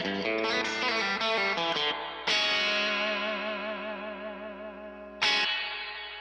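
Electric guitar chords ring out through the spring reverb setting of an Electro-Harmonix Holy Grail reverb pedal, with a wobbling, splashy tail, two fresh strums cutting in and decaying slowly.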